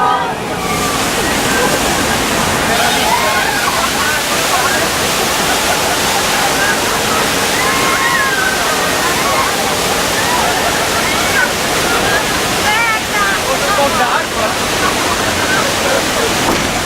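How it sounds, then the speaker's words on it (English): Water gushes loudly and steadily from a broken water main beside the track on the Universal Studios Hollywood Earthquake ride, a constant roaring torrent with faint squeals and voices mixed underneath. "the water main just broke off to the right side of the trail"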